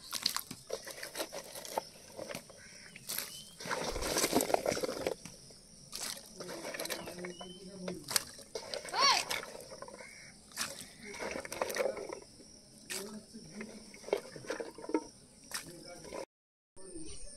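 Washed pumpkin greens and potatoes tumble into a cooking pot, a long stretch of close rustling, crinkling and wet clattering with irregular bursts and handling noises, then a brief silence near the end.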